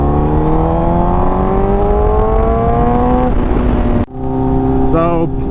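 A Honda CBR1000 liter-class sport bike hums steadily in third gear around 3,000 RPM, its rising engine tone holding loud and close before a brief drop and shift, with a rider talking over it.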